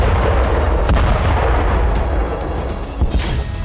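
Artillery fire in battle at Zaporizhzhia, a loud continuous barrage of deep booms and rumbling blasts with sharper cracks at irregular moments, with no talk.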